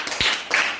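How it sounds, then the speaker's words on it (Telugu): Children clapping in a classroom during a literacy game, a couple of quick bursts of claps close by within a brief moment. "క్లాప్స్"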